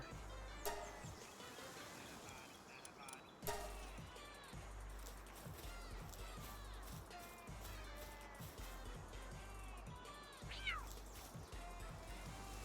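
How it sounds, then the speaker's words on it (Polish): A cat in the video game Palworld meows several times amid busy background noise with repeated thumps, one drawn-out meow standing out near the end. "Słyszałem kota."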